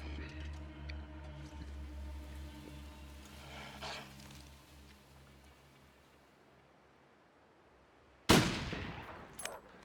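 A single rifle shot fired in The Long Dark survival game rings out loud and sharp near the end, following a long stretch of quiet ambient wind and hum.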